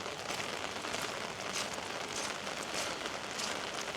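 Rainwater running off a driveway during heavy rain, a steady, faint rushing wash of flowing water and rain patter with no breaks and no voices.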